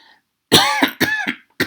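Three or four harsh, raspy coughs in a quick, uneven burst with short gaps between them, loud and close, after a faint, brief murmur.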